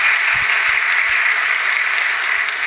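A large audience at a speech by Prime Minister Modi in Russia applauds in a thick, steady wash of clapping that holds loud and even throughout, with no voices over it.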